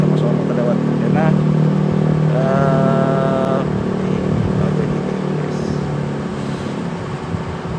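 A motorcycle passes by on a nearby street, its engine droning and rising briefly in pitch, mostly beneath a person talking steadily throughout.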